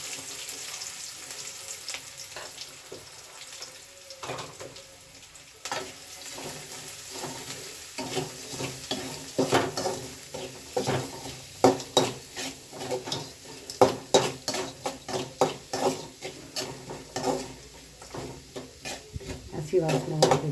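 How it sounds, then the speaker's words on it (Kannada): Chopped onion dropped into hot oil with cinnamon, cloves, bay leaf and cardamom for a coconut milk paneer gravy, a faint sizzle under a cook's talk, with spoon clacks and stirring knocks growing sharper. "ಈಗ ನಾವು ಅದಕ್ಕೆ ಈರುಳ್ಳಿ ಹಾಕೋಣ."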